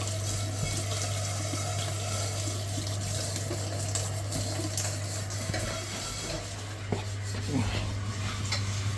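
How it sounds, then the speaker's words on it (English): Water runs steadily from an open tap during a Biasi boiler repair where hot water has failed, a continuous broadband rush with faint metallic clinks of pipework or fittings near the outlet and no talking. "Now I've got the tap open"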